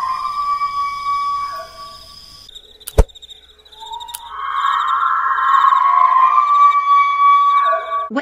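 A screeching creature cry from a Roblox game, heard as high, sustained whistling and shrieking tones with a sharp crack partway through, loud and alone with no talk.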